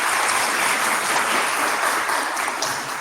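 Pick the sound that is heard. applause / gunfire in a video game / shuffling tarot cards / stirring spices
applause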